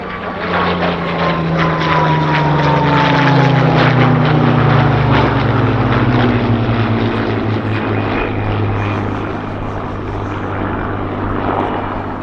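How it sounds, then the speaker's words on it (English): A Hawker Hurricane propeller fighter flies past at an RAF airshow, its piston engine droning loud and close with a falling pitch as it passes, then a sustained rumbling roar. "this Hurricane, flown by one of Number 253 Squadron's Polish pilots, Pilot Officer WMC Samolinski, was involved"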